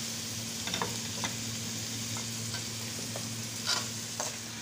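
Chicken and ginger sizzle steadily in a pan for tinola, with a constant frying hiss and a few soft scrapes of stirring. A low hum runs underneath and no one speaks.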